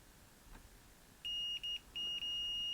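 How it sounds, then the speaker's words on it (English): Multimeter in continuity mode giving shrill electronic beeps while probing the pins of a Commodore C64 S-Video cable; a short beep, a brief one, then a longer sustained tone over faint room hiss, with no talk. "I'm going to use my multimeter in the continuity testing mode to see which pin is which"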